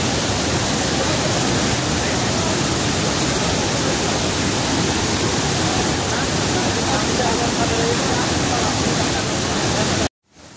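Heavy, dangerous floodwater after recent rain rushes in a loud, dense, unbroken roar for about ten seconds, close and overwhelming, then cuts off abruptly at the very end.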